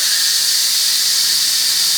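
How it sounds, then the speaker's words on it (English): Steam hissing hard out of a pressure cooker's valve during a beef neck bone pasta stew, a loud, steady high-pitched jet with a squealing edge, constant and alone. "Release this steam."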